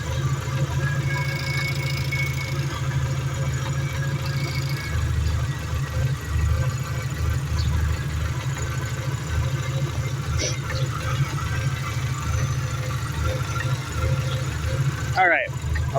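A 1999 Subaru Forester engine idles in its engine bay, giving a steady, close, continuous low rumble with a faint mechanical chatter throughout and a brief rattle near the end.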